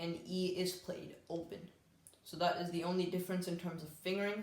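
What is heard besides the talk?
No distinct noise like a dog, phone or traffic.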